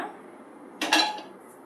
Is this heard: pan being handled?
yes